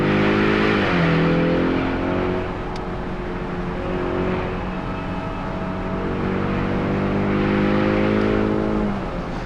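A 2024 Ford Mustang convertible with its exhaust valves open and the top down gives a loud, throaty exhaust note. It revs up with a rising pitch, holds a steady drone, then climbs again with a second pull, close and continuous.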